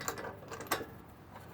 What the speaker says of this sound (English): So what I'm using the torque wrench again with the same torque.